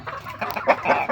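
A pet chicken kept for laying eggs clucks in a few short, close bursts, with scratchy rustling between the calls.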